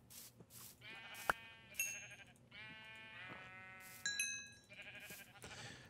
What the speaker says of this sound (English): Because it is sheep slaughtering time.